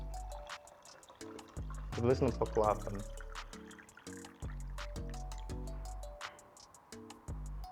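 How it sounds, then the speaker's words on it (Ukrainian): Clean water pours into the base of a moka pot for a few seconds while someone talks over soft background music. "Ми наливаємо просто чисту воду"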